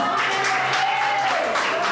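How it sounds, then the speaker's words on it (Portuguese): A church congregation claps continuously, a dense wash of applause filling the space, with a faint sustained tone underneath. "Você pode aplaudir o Senhor Jesus?"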